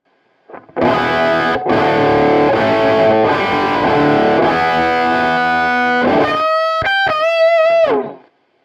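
Distorted electric guitar run through a TwoNotes Torpedo Live with power amp simulation, sustained chords ringing for several seconds, then a few short bright picked notes near the end, loud and up close with no talking.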